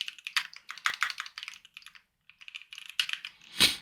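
Quick bursts of keystrokes on a computer keyboard as a terminal command is typed, clattering close up with a brief pause near the middle and a louder final key strike.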